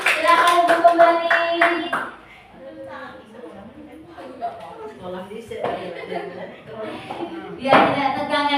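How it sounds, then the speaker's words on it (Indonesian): Women at a school positive-culture activity clap their hands in a brisk burst, with chuckling and chatter in between and another round of clapping near the end. "Tepuk tangan Ibu."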